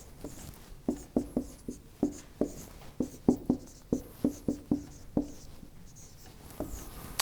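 Chalk or marker writing on a board during a physics lecture, a series of distinct taps and short strokes in an irregular rhythm, fairly close.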